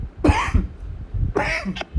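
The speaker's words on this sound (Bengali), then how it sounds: "সরি আমার একটু মনে খুশখুশে কাশি হয়েছে তো।" Two dry, close coughs about a second apart, loud and short, in a quiet room during an online class lecture.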